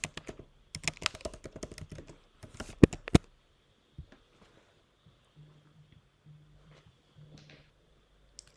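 A password is typed on a computer keyboard as a quick burst of close, crisp key clicks, followed by a few isolated taps and a faint low hum in a quiet room.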